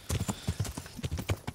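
A horse's hooves clip-clop in a quick, even rhythm in the medieval video game Kingdom Come: Deliverance, close and fairly quiet, with no talk over the steps.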